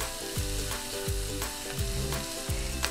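Onions caramelize in a hot pan with steady frying and sizzling, broken up by a run of regular stirring strokes that scrape and push them around, close and fairly quiet, with no voices.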